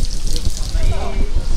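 Strong water gushes from an opened tap at a beach glamping site in Ternate, Cavite, a steady rushing flow heard close up with voices talking over it.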